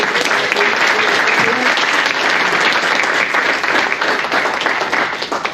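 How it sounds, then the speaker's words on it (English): Steady, dense applause from a crowd at a city hall recognition of a high school softball championship team, loud and continuous throughout with no pauses, the clapping blending into a broad wash of sound. "can we give a big round of applause to the parents"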